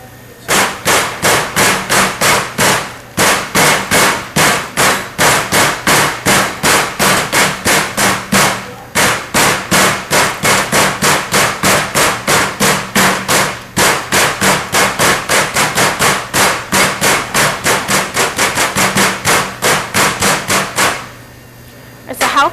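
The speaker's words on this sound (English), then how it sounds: "We want to pound it thin for two reasons." Chicken breast pounded thin on a cutting board in a cafe kitchen, with rapid, steady blows repeating for about twenty seconds and only a few short pauses.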